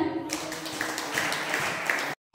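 A church prayer congregation claps together, a dense continuous patter of many hands for about two seconds before cutting off abruptly.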